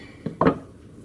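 Two quick metallic clunks of a frying pan being picked up and set down, the second louder and ringing briefly.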